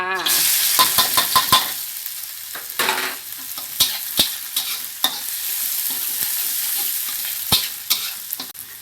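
Catfish being stir-fried in hot oil in an old wok, a steady loud sizzle with repeated sharp clinks and scrapes of the spatula against the pan, no talking.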